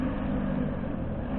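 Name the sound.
motorcycle engine in the distance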